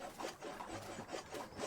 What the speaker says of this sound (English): So here you can see he's sawing wood now.